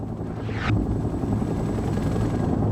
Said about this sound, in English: Helicopters have been dispatched to transport you to your next objective.